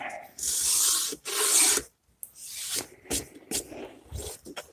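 Sandpaper is rubbed by hand across wooden cabinet doors, giving close, gritty rasping strokes in uneven bursts with short pauses between them.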